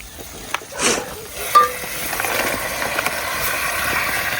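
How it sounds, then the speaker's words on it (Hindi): Chicken frying in a pan over a camp fire, with a steady sizzle, a couple of stirring scrapes and a clatter near the start, close and fairly loud. "अभी डालेंगे इसमें चिकन"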